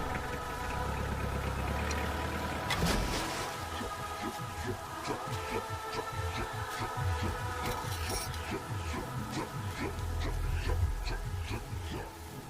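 Car engine turning over and running steadily, a low continuous rumble with knocking pulses through the whole stretch, amid a busy dramatic scene with no clear speech.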